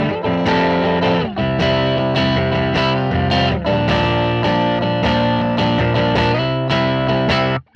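An electric guitar through a Logic Pro Designer Tweed Crunch amp simulation strums steady, harder-picked chords at edge of breakup, gritty but dynamic, with continuous sustain and rhythmic attacks, loud and alone before cutting off.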